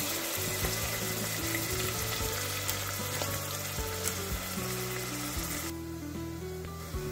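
Two tomatoes frying in a pan with garam masala, cloves and a small piece of cinnamon, a steady dense sizzle with occasional stirring clicks throughout, close and continuous with no voices.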